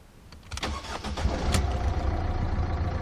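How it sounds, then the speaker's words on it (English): A 1.4 diesel Ford Fusion engine cranks over with a few quick turns, catches, and settles into a loud, rough clattering idle close by, with no talking. "you've got to fire the car up and leave it running"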